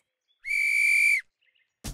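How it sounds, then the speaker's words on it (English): One long, steady blast on a whistle for a marching band parade signal, loud and clear, sustained for nearly a second before cutting off into silence. "when I blow the whistle one long time like this"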